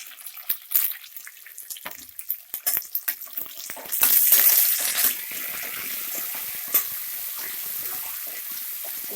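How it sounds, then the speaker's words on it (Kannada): Brinjal (eggplant) pieces frying in hot oil over a medium flame while cooking vangibath, giving a steady sizzle with scattered crackles and a louder burst of spattering partway through, heard close and alone. "ಈಗ ಎಣ್ಣೆಯಲ್ಲಿ ಒಂದು 3 ನಿಮಿಷ ಚೆನ್ನಾಗಿ ಫ್ರೈ ಆಗಬೇಕು ಬದನೆಕಾಯಿ"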